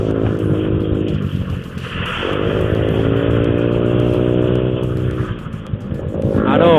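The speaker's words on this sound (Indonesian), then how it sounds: "Kalau misalkan saya lagi ngomong kayak gini kayaknya nggak akan kedengeran si suara knalpotnya." Motorcycle exhaust fitted with an AHM muffler and a CMS 0.5mm filter insert, idling steadily with a low, even rumble and small rises in revs, close to the mic for the whole stretch.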